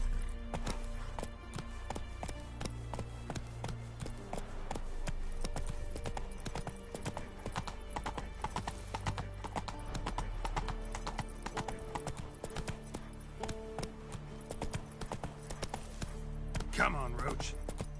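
Roach, a horse in The Witcher 3 video game, gallops with steady, loud clip-clop hoofbeats running throughout, a brief whinny near the end, and game music and ambience layered beneath.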